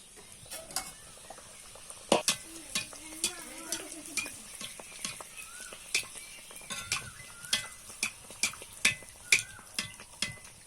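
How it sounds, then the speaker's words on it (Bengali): Naan bread frying in oil, with a soft sizzle under repeated sharp clinks and scrapes of a utensil against the pan, coming in a steady, fairly regular rhythm and heard close up. "এইভাবে বাকি সবগুলো ভেজে নেবো"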